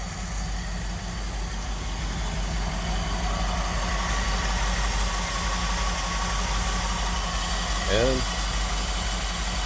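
The engine of a 1958 Dodge Power Wagon W200 3/4-ton truck, fitted with an alternator and an added power steering pump, idles steadily with an even low rumble while someone talks over it.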